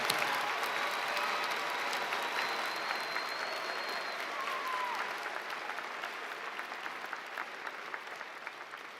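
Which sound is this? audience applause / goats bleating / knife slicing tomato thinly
audience applause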